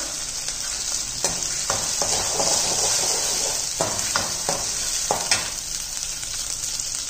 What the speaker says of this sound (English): add onion, let it cook.